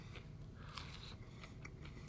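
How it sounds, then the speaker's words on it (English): Biting into a crunchy New York-style hand-tossed pizza crust at Wynn Las Vegas, heard as a series of faint, close, crisp crackles and crunches over a soft low background hum. "Great crunch on this crust."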